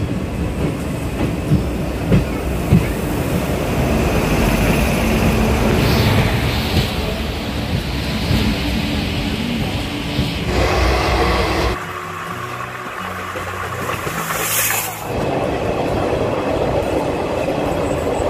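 The Howrah to Digha Paharia Express train rumbles along the rails near Uluberia with a steady roar and rhythmic clatter, easing into a quieter passage before the noise returns; no talking.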